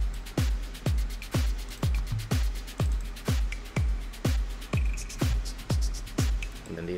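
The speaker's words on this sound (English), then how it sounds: "So when I put drums and the shakers and the hats and the wood block all together, my entire percussion group sounds like this" A layered electronic percussion loop of drums, shakers, hi-hats and wood block plays in a steady rhythm, with about ten evenly spaced deep kick hits under crisp ticking hats and shaker, clear and alone.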